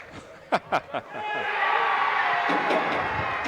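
A youth crowd at a boys' high school soccer game, Fairfield vs Mason, breaks into a loud sustained cheer and roar after a few brief shouts, with crowd chatter throughout.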